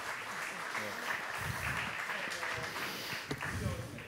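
An audience at an Italian award ceremony applauding, sustained clapping that holds at an even level with voices mixed in beneath it.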